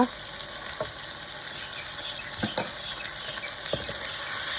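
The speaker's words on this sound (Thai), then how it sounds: "จากนั้นเราก็ผัดให้เข้ากันเลยค่ะ ตอนนี้ใช้ไฟแรงนิดนึงนะคะท่านผู้ชม" Crispy pork with dried chili and basil stir-fries in a pan over fairly high heat, a constant hissing sizzle broken by a few scraping knocks of a spatula at spaced intervals.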